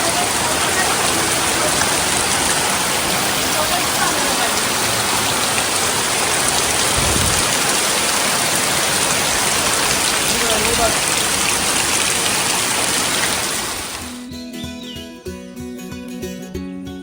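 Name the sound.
heavy rain pouring in Konkan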